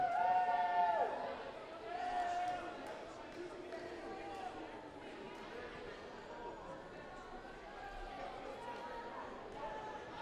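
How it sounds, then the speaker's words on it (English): Restless crowd murmur in a girls' high school volleyball gym, the Auxiliary D gym in Spanish Fork, a steady hum of chatter and shuffling with a couple of whistle blasts near the start. "a little bit of a restless crowd beginning to grow here"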